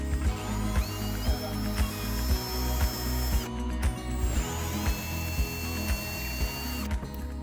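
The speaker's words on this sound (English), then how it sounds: "as I'm screwing the screws, it's cracking the wood, splitting it right down the seam of it." A power driver sends screws into kiln-dried wood with repeated whirring bursts and ratcheting clicks, close and steady, over background music.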